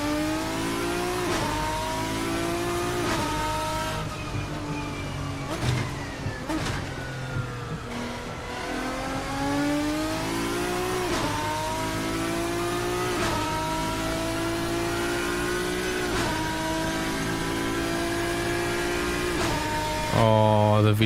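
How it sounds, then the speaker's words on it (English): A high-pitched V12 race car engine in a racing video game revs and climbs through the gears continuously, with shifts and a final loud roar near the end, steady and prominent. "Oh, the V12 noises."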